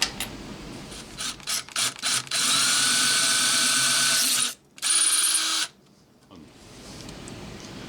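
Power drill boring holes through metal hinges, starting in short stuttering bursts, then running loud and steady for a few seconds with a brief pause, before the motor stops and a quiet hum remains.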